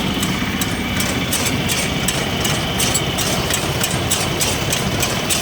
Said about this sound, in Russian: Двигатель одноцилиндровый, двухтактный, работает ровно, без каких-либо перебоев.